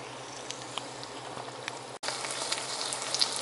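An egg omelette with two peppers and candy onion cooking in a pan, a steady bubbling sizzle that stays even and close, briefly cutting out for an instant before resuming slightly louder.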